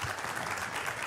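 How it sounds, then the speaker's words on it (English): A brief, steady burst of applause from a conference audience thanking panelists, even in level across the whole moment. "Can we give them a quick round of applause?"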